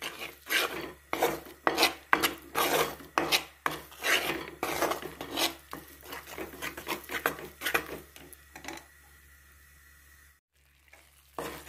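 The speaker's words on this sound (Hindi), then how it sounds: "अब इसको हमने हलाते हुए ब्राउन होने तक पका लेना है और इसको लगातार हमने हलाते रहना है।" A spoon rasps and scrapes steadily through atta halwa (kada prasad) cooking in a pan, a close, rhythmic stirring that goes on for several seconds and then thins out to near quiet.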